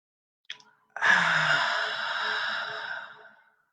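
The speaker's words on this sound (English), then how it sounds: "take a deep breath. Inhale and exhale." A short sharp sniff is followed by a long audible exhale through the mouth, a close, soft, breathy sigh fading over about two seconds.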